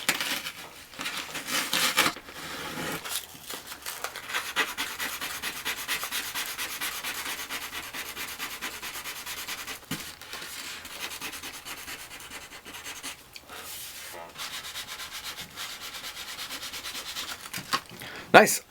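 Steady, gritty rubbing of 400-grit sandpaper on a board, back-and-forth strokes continuing close up for a long stretch with brief pauses and a few knocks.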